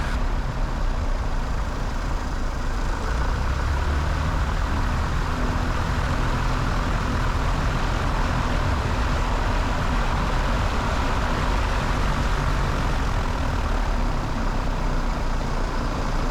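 A light training aircraft's piston engine droning steadily from inside the cockpit as a flight begins, a loud, unbroken low rumble with no talk over it.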